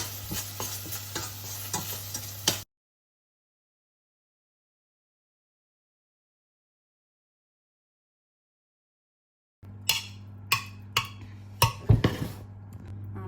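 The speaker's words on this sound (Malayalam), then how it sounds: "നമ്മൾ ബീഫിൻ്റെ സ്റ്റോക്ക് ഞാൻ ഒഴിച്ചു, എന്നിട്ട് ഒന്ന് മിക്സ് ആക്കിയിട്ടുണ്ട്" Noodles in beef stock stirred in a pan for spicy beef noodle soup, with a few sharp scraping clacks of the utensil against the pan at close range, broken by a long stretch of silence.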